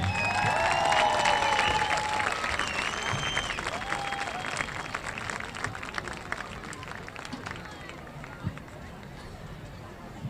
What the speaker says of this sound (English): please join me in applauding Cienega Hall of Honor inductee